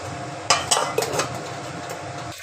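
A lid is set on a cooking pan of vegetables on a gas stove, producing a few sharp metallic clanks and rattles in quick succession, close and fairly loud, over a low steady kitchen background.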